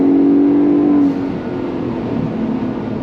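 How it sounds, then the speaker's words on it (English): A Ford Bronco Raptor's 3-liter twin-turbo EcoBoost engine pulling hard under throttle, a loud, steady engine roar that shifts pitch after about a second, heard alone up close. "Love all the sounds that EcoBoost makes, that 3-liter twin turbocharged EcoBoost."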